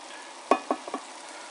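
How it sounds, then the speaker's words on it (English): Hamburger meat frying in a pan and pushed around, a soft steady sizzle broken by a few quick scraping stirs, close up and with no talking. "I'll mix some of this hamburger around here so you can get the idea about the chunk size."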